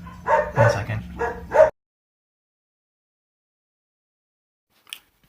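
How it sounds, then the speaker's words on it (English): Dogs bark in a quick close-up burst of several yaps, followed by a long silence and a faint sound near the end. "Dogs."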